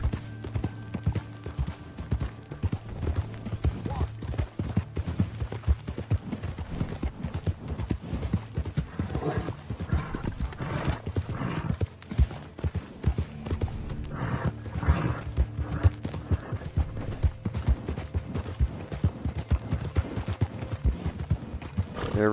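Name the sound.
horse galloping in video game Red Dead Redemption II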